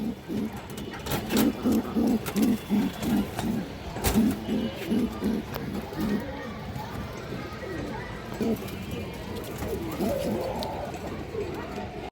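A purple-necked male garden pigeon coos in a repeated rhythmic series of low throaty calls, close by, with someone talking over and between the calls.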